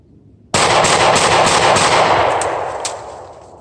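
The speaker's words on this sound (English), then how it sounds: "Shield, 5 shots, rapid fire." Smith & Wesson M&P Shield pistol fired in a rapid string outdoors, loud sharp cracks arriving in quick succession and trailing off into a fading echo.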